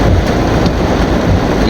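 Heavy rain pouring down in a dense, loud, steady wash of noise, close to the microphone with some wind buffeting.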